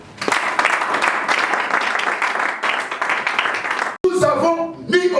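A church congregation applauding loudly and steadily for about four seconds, a dense roar of clapping that breaks off briefly before resuming with voices mixed in.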